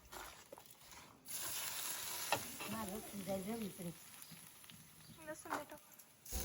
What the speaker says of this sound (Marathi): तेल कडकडीत एकदम पूर्ण गरम करून घेतलं आहे ते थोडं थोडं करून सर्व याच्यावरती टाकून घ्यायचं आणि मस्त असं हलवत राहायचं